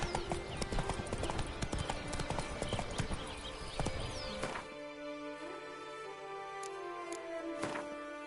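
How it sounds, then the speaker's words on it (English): Horse hooves clip-clopping in The Witcher 3 video game, a brisk run of close, crisp hoofbeats that thins out to scattered steps over a tonal music bed, with a whinny-like sound near the end. "Whoa there, Roach"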